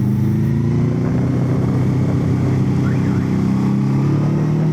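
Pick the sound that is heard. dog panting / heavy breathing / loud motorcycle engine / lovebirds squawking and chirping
loud motorcycle engine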